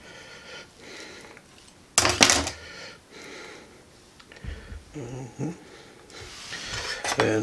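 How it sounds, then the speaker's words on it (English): Knife cutting a small avocado in half on a kitchen surface, with a few sharp knocks and clicks of the blade and board spaced apart between quieter handling noises. "I got these avocados are small. I'm gonna use 2, but you just very carefully cut this thing in half."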